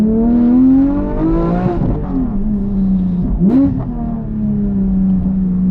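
A Porsche 718 Cayman GT4 engine and exhaust on a dyno, droning at steady pitch with a couple of quick rev blips and pitch swoops midway, loud and close with no talk.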